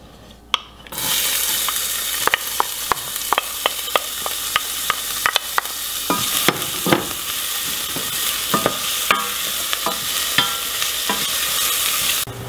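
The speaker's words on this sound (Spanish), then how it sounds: "en esta olla voy a poner un poco de aceite y voy a cocinar la cebolla por unos 3-4 minutos." Chopped onion cooking in oil in a pot for butternut squash soup, heard as a loud, steady sizzle that starts abruptly after a moment of quiet, with a close spoon repeatedly scraping and tapping the pot throughout.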